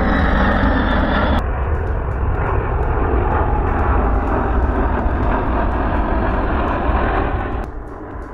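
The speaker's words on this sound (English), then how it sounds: "looks like the plane's getting out there on the tarmac" Airplane at the Santa Maria Air Show heading out on the tarmac, a loud continuous engine roar held steady close by before easing off slightly at the end.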